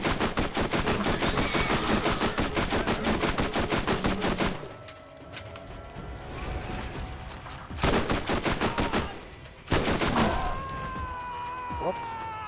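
Video game gunfire in Borderlands: rapid automatic bursts, loud and close, firing in long volleys that break off twice with short pauses between them, and no talking.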